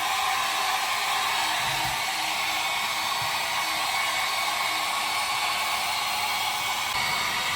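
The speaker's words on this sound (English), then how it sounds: "Just gonna then come with a heat gun" A heat gun blows a steady, loud rush of hot air during repair work on a Lancer Evo 5 chassis, the broadband hiss continuous and unbroken for several seconds with no talking.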